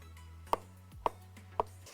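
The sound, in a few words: knife chopping tomatoes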